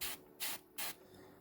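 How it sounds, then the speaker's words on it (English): An airbrush sprays paint onto a Shoretrooper miniature at an angle in three short, even hissing bursts, quiet and close, with no talking. "So we're spraying from, say, a 45-degree angle, trying to get a bit of zenithal going on."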